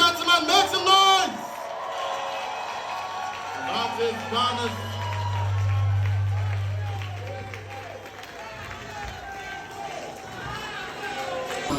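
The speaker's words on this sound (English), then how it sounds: "don't stop clapping until she hits the podium" A crowd claps and cheers as Ghana's Vice President Naana Jane walks to the podium at an onboarding and orientation program, steady applause and whoops under a loud announcer's voice.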